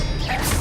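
Expelliarmus disarming spell cast in Hogwarts Legacy, a loud, dense burst of magical crackle and whoosh with a clattering, ratchet-like texture, sustained through a brief moment with no speech.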